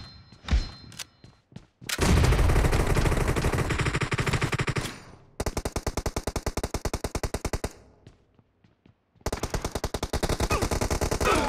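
MP5K submachine gun firing in Battlegrounds Mobile India: several long, loud automatic bursts of rapid, evenly spaced shots, separated by brief pauses, with no talking.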